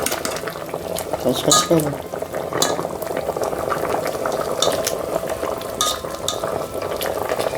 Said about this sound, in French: je vais venir mettre mes gombos dans ma sauce